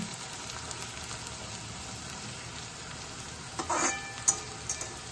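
Ingredients fry lightly in a pan, giving a soft, steady sizzle with a brief louder burst of crackle and a few spatula taps toward the end.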